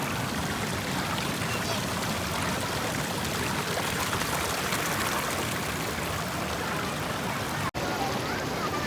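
Ganga river water rushes in a steady, dense flow close by near Pahalgam, a broad continuous wash that stays alone and even throughout.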